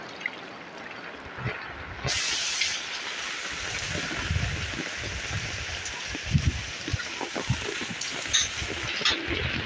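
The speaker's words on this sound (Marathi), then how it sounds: "मस्त जोरदार पाऊस आहे" Dense, steady patter of heavy rain falling on surfaces nearby, with scattered louder drips and splashes throughout.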